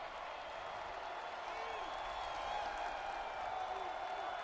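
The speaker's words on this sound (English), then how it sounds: "Homecoming crowd here at Doak Campbell, getting their defense fired up." Homecoming football crowd at Doak Campbell Stadium, Florida State against UMass, roaring to fire up the defense: a distant, sustained wash of cheering under a commentator's voice.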